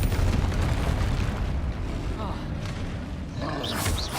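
In the video game Hogwarts Legacy, a Confringo fire spell goes off as a dull, rumbling blast. It sits within constant busy game noise, with a brighter crackling burst near the end.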